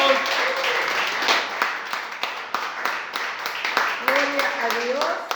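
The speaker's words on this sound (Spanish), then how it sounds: "Sella esta palabra con un aplauso al Señor." Church congregation applauding together at the close of a Spanish-language sermon, a steady mid-level patter of many hands with voices and music-like tones mixed in underneath.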